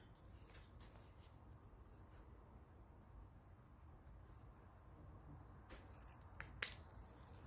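Scissors snip through ribbon cut at an angle on a craft table, a faint, quiet cutting sound in a hushed room with one sharper snip near the end.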